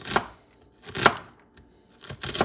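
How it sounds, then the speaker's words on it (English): A knife chops a quarter of a yellow onion on a cutting board for a Puerto Rican pork rice stew, three separate bursts of rapid close chopping with short quiet pauses between them. "Yellow onion, I'm going with a quarter. Make sure you chop it nicely."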